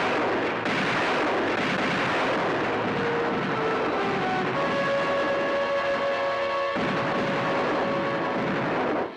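Cannon fire from a ship attacking pirates, heard as a dense, roaring barrage of blasts and rumbling booms that fills the whole stretch, with tonal whistling layered in partway through.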